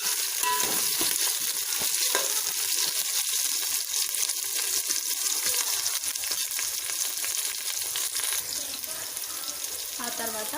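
Carrot pieces fry in a pan for moong dal khichdi, a steady, close crackling sizzle lasting throughout, with occasional stirring scrapes.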